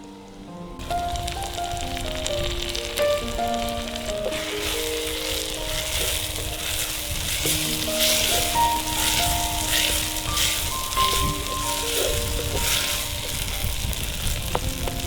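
Tomatoes frying in a pan for a prawn and egg curry give a steady, close, crackling sizzle that runs the whole way through, with background music playing underneath.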